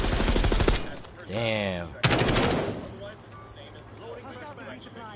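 Loud bursts of automatic gunfire and single shots from the online battle royale Call of Duty Warzone, rattling in two heavy volleys with a player speaking briefly between them.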